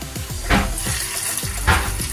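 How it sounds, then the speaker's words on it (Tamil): Chicken legs dropped into hot oil already used for frying prawns sizzle loudly, with two sharper bursts of spattering rising over a constant frying hiss. "இப்போ வந்து நான் சிக்கன் காலை போட்டு பொரிக்க போகிறேன் இந்த எண்ணெயிலேயே."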